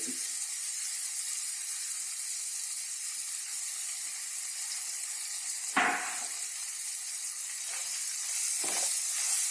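Finely chopped onions and green chillies frying in oil for a bachelor-style chicken gravy, a steady close sizzle throughout with a few brief clinks of a stirring utensil.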